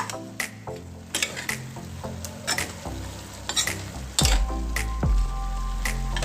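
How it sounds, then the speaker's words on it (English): Cauliflower, mushrooms and carrots being quickly stir-fried, with a close, continuous sizzle and repeated scraping and clattering stirring strokes, heavier toward the end, and no voices. "Quickly going to stir this. This is just a very quick stir fry."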